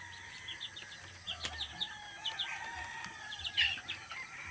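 Three-week-old chicks cheeping in a cluster of quick, high peeps from close by, fairly faint, with short overlapping chirps scattered through a soft hiss of background noise.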